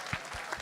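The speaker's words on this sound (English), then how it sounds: "So let's give our panel a round of applause." Audience applause for a discussion panel at a fraternity and sorority forum, a short soft burst of clapping at modest volume.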